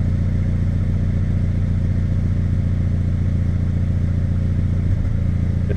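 A Suzuki X90 engine idles with a slight misfire, a steady low rumble with faint uneven pulsing throughout, close to the microphone and with no talking.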